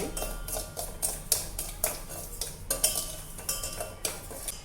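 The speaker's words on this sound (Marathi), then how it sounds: "आपल्याला ही वरई त्याच्यामध्ये छान भाजून घ्यायची आहे" Barnyard millet (varai) roasting in a pan, stirred with a metal spoon that gives repeated sharp scraping clinks against the pan, close and fairly quiet, in an irregular rhythm of strokes.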